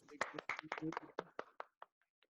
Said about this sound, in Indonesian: Tepuk tangan dong buat Ina.